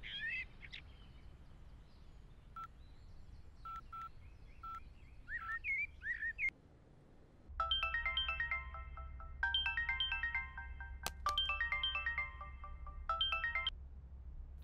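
A phone rings while a conference call is being connected, its electronic ringtone sounding in several repeated bursts after some faint chirpy tones, with no one speaking.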